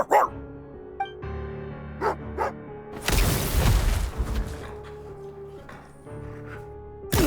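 A dog barks in Genshin Impact, several separate sharp barks and yips at a hunter's cabin, with a loud rushing burst midway and quieter gaps between.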